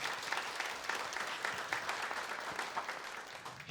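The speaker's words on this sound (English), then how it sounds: "give one round of applause to everybody for sharing" Sustained applause from an audience for the panelists at a live podcast recording, a steady crackle of many clapping hands with no voices.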